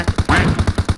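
A rapid automatic weapon burst in the shooter game PUBG Mobile, about ten evenly spaced loud shots within a second.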